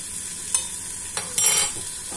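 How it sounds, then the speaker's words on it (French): Meat browning in a pan with lemon juice, parsley and coriander for a Moroccan dish, a soft steady sizzle punctuated by a few brief scraping stirs and one louder hissing flare near the middle. "je vais continuer à rissoler ma viande pendant 5 minutes encore"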